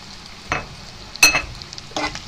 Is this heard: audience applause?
no